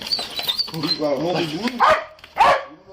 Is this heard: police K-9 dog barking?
yes